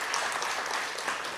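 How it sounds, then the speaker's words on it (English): Audience applause at a service learning conference at Tangaza University: a steady, dense wash of many hands clapping throughout, close and evenly sustained. "can you give them a hearty clap even as they exit the stage"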